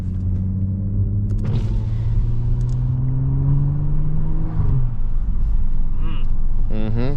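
A Stage 2 Audi S4 engine revs up with a steadily rising tone, then drops off and rises again, close and loud, with sharp crackling exhaust pops and voices inside the car.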